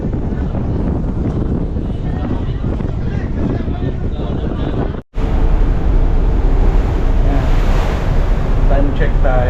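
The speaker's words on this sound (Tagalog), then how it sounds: "Lakas ng alon." Strong ocean waves and wind buffet a boat during a sea crossing toward Romblon via Odiongan, a loud continuous rushing wash with wind noise on the microphone and a brief dropout midway.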